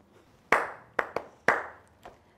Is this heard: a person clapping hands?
yes